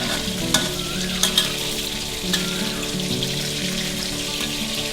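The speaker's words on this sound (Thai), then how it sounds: "ทอดจนหมูสุกเลยนะคะ" Pieces of pork frying in a pan of hot oil, a dense continuous sizzle up close with a few sharp crackles and pops, no talking over it.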